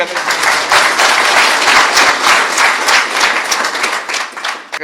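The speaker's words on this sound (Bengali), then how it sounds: "জোরে হাততালি।" An audience at a gathering bursts into loud, sustained applause, a dense wash of many hands clapping that swells and carries on for several seconds before tapering at the end.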